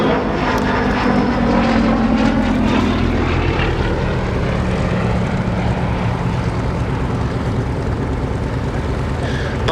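Gloster Gladiator biplane flying at a Duxford airshow, its radial engine producing a loud, steady propeller drone that swells and shifts slightly as it passes, with a voice faintly beneath.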